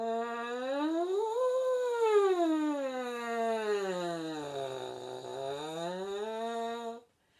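A French horn mouthpiece buzzed alone sweeps up and down like a siren, climbing high, dropping low, then rising again in one continuous loud tone before cutting off.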